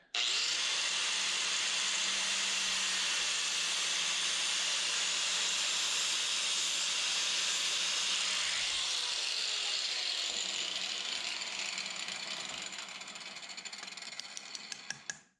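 A PTFE hose line is cut with a power tool, a steady loud whirring hiss that runs continuously for about fourteen seconds before winding down, close up with no speech.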